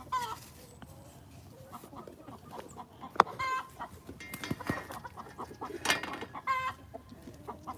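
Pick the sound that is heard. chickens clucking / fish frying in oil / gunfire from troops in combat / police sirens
chickens clucking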